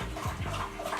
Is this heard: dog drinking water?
yes